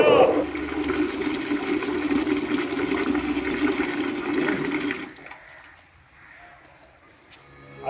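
Warm bathwater rushes and splashes in a steady flow for about five seconds, then drops away to a quiet trickle and faint drips.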